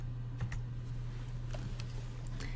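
Someone types a group name on a computer keyboard: a short run of soft, quick key taps over a steady low hum, with no talking.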